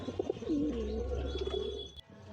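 Pigeons cooing in a home loft, a soft rolling coo with a few throaty warbles close by, over a low steady hum, ending in a brief quiet.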